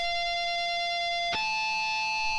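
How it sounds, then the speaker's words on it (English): A single natural harmonic rings out on an electric guitar, a clear bell-like tone sustaining cleanly, then a second harmonic chimes in with a bright attack and holds steady, close and alone. "a natural harmonic, or just a harmonic, looks like this, and it sounds like this."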